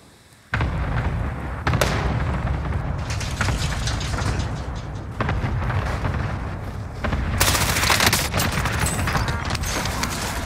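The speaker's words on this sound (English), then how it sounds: "I'm being sniped at from behind" Dense, loud gunfire and blasts in Call of Duty Warzone with sniper shots among them, a continuous barrage of cracks and booms lasting throughout.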